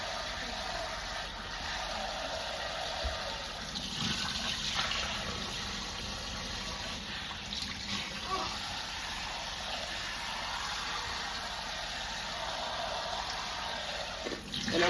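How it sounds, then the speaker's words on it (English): Tap water runs steadily through rice being rinsed in a kitchen, a continuous close splashing gush with no talk over it. "As soon as the water runs nice and clear through the rice."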